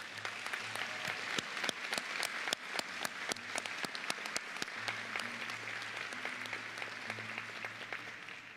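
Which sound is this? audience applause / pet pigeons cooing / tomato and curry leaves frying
audience applause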